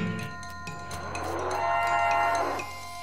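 A cow in the video game West of Loathing lets out a long, loud moo that swells and fades over a few seconds, heard alone without speech.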